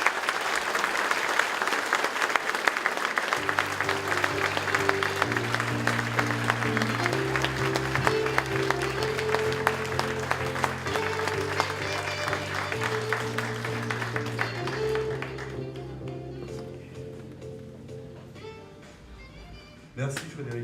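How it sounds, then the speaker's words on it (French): A crowd gives a long, loud ovation for Georges Ferrero at a 2014 municipal campaign rally, with steady dense clapping over a tonal musical backing. The applause thins and fades after about fifteen seconds, leaving quieter music. "je vous demande une ovation pour Georges Ferrero"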